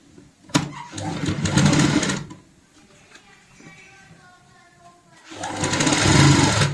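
A sewing machine stitches piping for a cushion cover in two bursts of rapid, chattering needle action, separated by a quieter pause with faint background sound.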